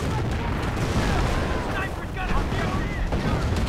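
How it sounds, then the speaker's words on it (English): Artillery fire in the Company of Heroes video game: a dense rumbling barrage of booms and blasts rolling on continuously, loud and close, with game sound effects layered over it. "Artillery."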